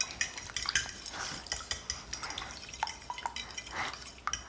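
Eggs for tamagoyaki are beaten in a bowl, producing rapid, uneven clicks and taps of utensil against the bowl alongside a wet sloshing, close and continuous for several seconds.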